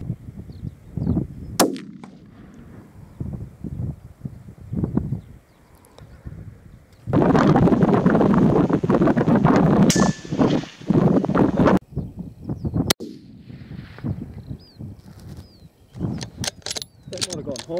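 A single sharp rifle shot cracks out during a varmint hunt, with people talking before and after it and a stretch of loud, rushing wind or handling noise in between.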